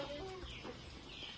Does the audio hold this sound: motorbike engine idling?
no